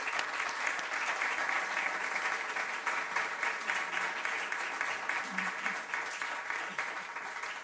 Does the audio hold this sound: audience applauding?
yes